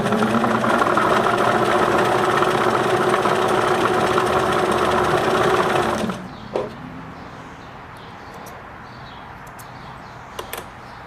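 A Singer Merritt 2404 sewing machine runs a test stitch, a loud, steady, close mechanical whir for about six seconds, then stops, leaving quiet handling clicks and small knocks.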